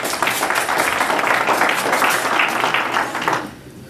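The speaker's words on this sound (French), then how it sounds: "On applaudit le Seigneur dans sa vie." A church congregation applauds together during a spiritual concert service, a dense, steady wash of clapping that carries on evenly before dropping away near the end.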